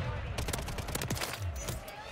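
Rapid bursts of WSP 9 submachine gun fire in Modern Warfare 3 rattle out in quick clusters, fairly loud, mixed with other game sounds.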